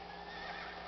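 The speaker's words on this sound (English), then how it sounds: "Call your stupid horse." A horse whinnies briefly in the video game Shadow of the Colossus, a short high neigh with faint hoof clops, alone and moderately quiet.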